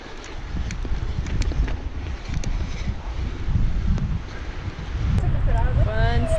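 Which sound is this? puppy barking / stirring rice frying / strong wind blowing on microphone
strong wind blowing on microphone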